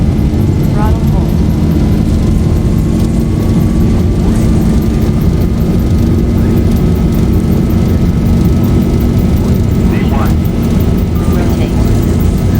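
Boeing 737-800 jet engines roar at takeoff thrust in the X-Plane flight simulator, a loud, steady, droning rumble that fills the whole stretch without letup, with faint tonal whine riding on top.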